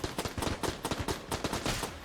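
Cannon fire in the video game Enter the Gungeon, a rapid train of punchy shots repeating several times a second, loud and close, with no voice over it.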